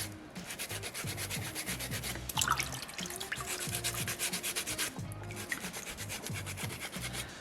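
A small soapstone polar bear carving is sanded by hand in crisscross strokes, giving quiet, close, rhythmic scraping rubs repeating at a steady back-and-forth pace.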